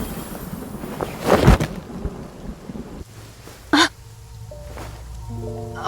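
Downpour in the game Love and Deepspace, with steady heavy rain hiss and a sharp nearby thunder crack, followed by a softer rumble and light musical tones near the end.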